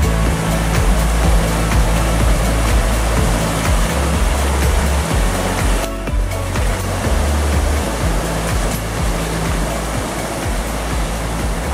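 A small clear stream runs along a country path, making a loud, even wash of water sound that holds for several seconds, with a short dip near the middle and rumbling gusts underneath.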